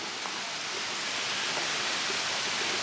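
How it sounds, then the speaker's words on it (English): Water pours steadily through a leaky wooden trough feeding a mountain farm mill, a dense, even rushing wash that stays constant and close throughout. "A trough takes water in from uphill of the creek and flows downhill"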